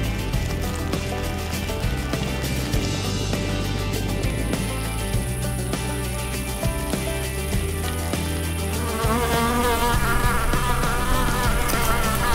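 A bee buzzing outdoors along a hard-packed gravel bike trail, a steady close insect drone running through the whole stretch alongside rattling and rolling noise.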